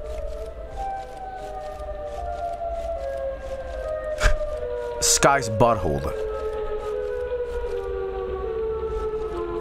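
Siren Head in a horror video game lets out a long, wavering civil-defense-style siren wail that drones steadily throughout, with sharp distorted bursts and a sweeping screech in the middle, while someone talks over it.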